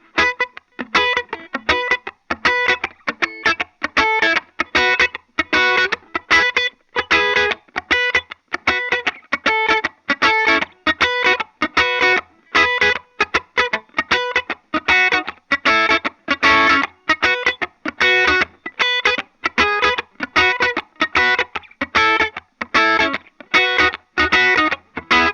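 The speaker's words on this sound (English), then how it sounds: "One more thing you can do with the wah pedal is you can keep the toe down." Electric guitar played in a reggae style through a wah pedal held toe down, a bright, trebly tone with short choppy offbeat chord stabs repeating in a steady rhythm, close and loud, with slight distortion.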